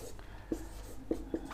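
Chalk or marker writes on a board during a maths lesson: a few faint, short scratchy strokes in a quiet room, with a soft voice barely present.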